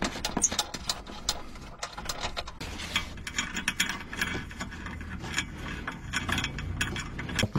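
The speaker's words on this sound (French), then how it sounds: "Je desserre à la clé de 10." A 10 mm wrench loosens bolts on a Renault Megane 4, giving a quick series of close metallic ratchet clicks and clanks in irregular bursts with no talk.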